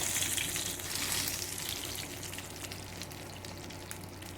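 Steady frying of pambazos in a pan with a broad hiss and crackle throughout, moderately close, with no voices.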